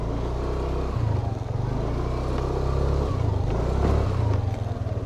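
A motorcycle engine chugs steadily at low revs while being eased into a parking spot on Sulawesi, Indonesia, a continuous close rumble with slight throttle changes throughout.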